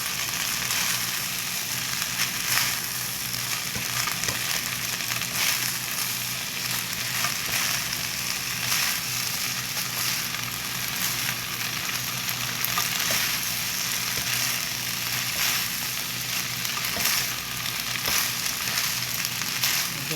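Seaweed stems stir-frying in a pan give off a steady, close sizzle with soft crackling and occasional stirring scrapes, continuous for the whole stretch with no voices.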